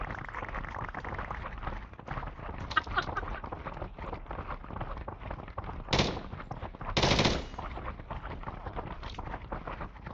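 Rapid bursts of video game gunfire rattle through the clip, the dense fire broken by short gaps, with two louder blasts standing out near the end.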